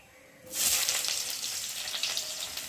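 Chopped onion drops into hot oil in a wok already tempered with cumin seeds and bay leaf. A sudden loud sizzle erupts and keeps crackling steadily.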